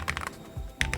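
Quick bursts of typing on a Sikakeyb HM 80 keyboard fitted with Gateron Jade Emerald tactile switches and foam and silicone dampening, close and crisp, with several keystroke clusters and a short pause between them.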